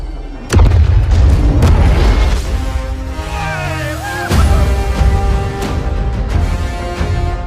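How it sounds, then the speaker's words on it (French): Heavy bomb-drop explosions in a cinematic trailer, a sharp boom followed by a long rumbling roar, a second big blast midway, loud and dense with swelling score and effects layered throughout. "Largage de bombe."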